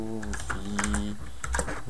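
Quick bursts of keystrokes on a computer keyboard while a title is typed into Movie Maker, the clicks sitting over a steady tonal background with no speech.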